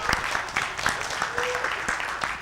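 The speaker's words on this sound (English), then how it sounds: "Soon they clap" An audience claps in a quick, ragged burst of hand claps that runs steadily throughout, with voices talking over it.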